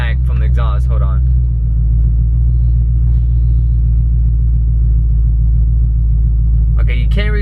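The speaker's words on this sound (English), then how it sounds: "you still hear like this little rumble shaking in the back from the exhaust" Low, steady exhaust rumble from a Ford Mustang Foxbody with aftermarket exhaust, droning continuously near the mic, with a voice talking over it at the start and again at the end.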